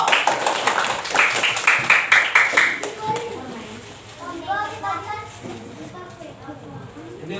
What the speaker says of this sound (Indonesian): Tepuk tangan untuk Alif. Tepuk tangan meriah-meriah.